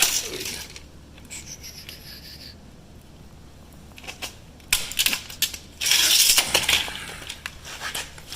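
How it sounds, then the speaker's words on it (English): Metal snips bite through a metal acoustical ceiling grid main, a few sharp clicking cuts and crunches, close and fairly loud, with quiet scraping handling noise between them. "cut the main right there."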